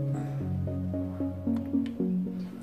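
White vinegar pours from a large, heavy bottle in a run of glugging, gurgling bursts that shift in pitch. The sound is close but fairly quiet, with no talking over it.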